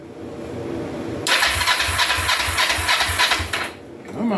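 A carbureted 2004 Kawasaki Vulcan 500 motorcycle engine cranks on its starter, giving a rhythmic, chugging pulse for a couple of seconds before it drops away.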